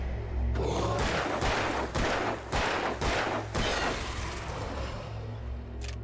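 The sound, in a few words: revolver gunshots in the video game Alan Wake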